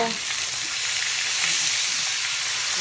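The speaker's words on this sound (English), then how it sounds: "You can cook this steak, get that good sear on one side, turn it over, get that good sear on the other side." Porterhouse steak searing in a hot pan, a loud, dense, steady sizzle and hiss close up, with no talking over it.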